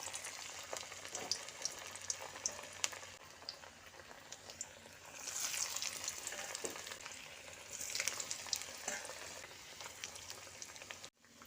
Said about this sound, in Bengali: এবার গরম তেলের মধ্যে পকোড়াগুলো একে একে ছেড়ে দিচ্ছি